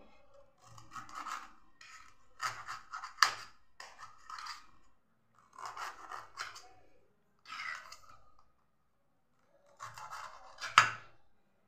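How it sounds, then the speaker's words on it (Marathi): Whole lemons cut for lemon pickle with a knife, in repeated bursts of scraping, squelching cuts broken by short pauses, close up, with sharp knocks against the board and no talking. "मी अशा प्रकारे पूर्ण लिंब असे कट करून घेते."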